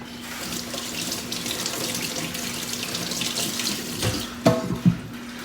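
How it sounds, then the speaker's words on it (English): Hands being washed under a running kitchen tap, a steady splashing stream of water close by, with a few louder clunks and splashes near the end. "I'm going to wash my hands real quick"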